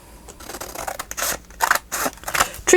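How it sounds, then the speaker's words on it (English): Large scissors slice through paper for packaging crafts, giving a series of crisp, rasping snips in quick uneven bursts, close and fairly loud, with no voices. "So, big scissors, please."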